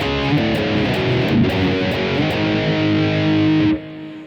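A distorted electric guitar through a Blackstar ID:Core 20 V3 amp plays chords and notes with an overdriven tone, delay and reverb, then cuts off near the end.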